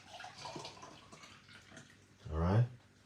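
A cucumber and lemon drink is poured into a container near the end, a short gurgling splash after quiet indoor sounds and faint talk.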